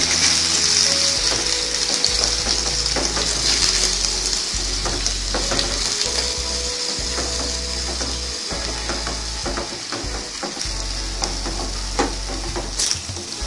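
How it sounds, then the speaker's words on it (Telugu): Onion paste frying in hot oil in a kadai, a steady close sizzle running throughout with occasional stirring scrapes, no talk. "ఉల్లిపాయ పేస్ట్ వేసి బాగా ఫ్రై చేసుకోవాలి"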